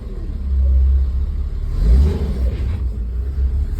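A 1973 Mercedes 280C, on its first drive in 30 years, rumbles at idle and then revs up briefly before settling back to a steady low drone, with no voices.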